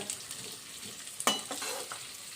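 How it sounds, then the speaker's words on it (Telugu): Onions fry in a tempering for Telangana-style rice, a close, steady sizzle with a sharp scrape of the spatula near the middle and softer stirring strokes after. "ముప్పావు వంతు వరకే వేగితే ఉల్లిగడ్డ చాలా బాగుంటుంది"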